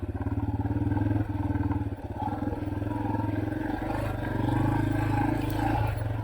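A dirt motorcycle churns in mud as its rear wheel spins, the engine loud and close with a rapid pulsing throb that dips briefly and then swells back to a strong, steady roar.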